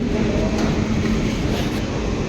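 A train rumbles past at close range with a steady, loud, broadband roar and no break, and no voices are heard.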